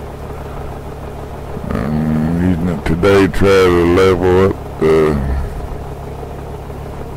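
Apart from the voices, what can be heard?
1944 Ford 2N tractor engine running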